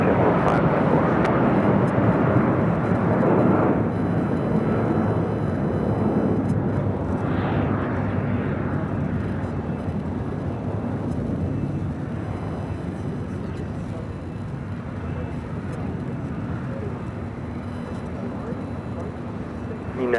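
JetBlue airliner taking off from runway 25 right at LAX, a loud, steady jet roar that gradually fades, with air traffic control radio voices speaking over it.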